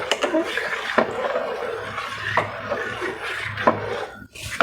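A spoon stirs gazpacho with a pinch of roasted ground jeera in a bowl, giving a steady scraping and rubbing with a few sharper knocks against the sides, close by, with faint voice in the background.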